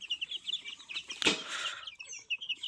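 Sonali chickens cluck softly with a burst of wing flapping near the middle, the birds fairly close and the sound moderately quiet.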